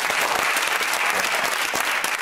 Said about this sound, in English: We're clapping along.